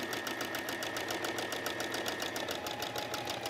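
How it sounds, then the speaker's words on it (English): A sewing machine runs free motion stitching through fabric for a capelet, a fast, steady, even stitching rhythm that continues without a break, close and fairly loud with no voices. "Follow my line and make two rows of stitching all the way through."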